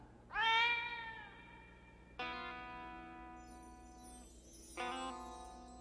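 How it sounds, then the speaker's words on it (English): A cat meows three times, each call long and drawn out with pauses between, fairly clear against a quiet background. "That's Tammet, my cat"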